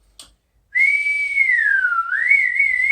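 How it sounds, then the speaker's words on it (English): A person whistles with the mouth alone, one steady, clear sustained tone that holds level, dips and then rises again, close and loud, heard during tin whistle and flute practice. "using your mouth to whistle"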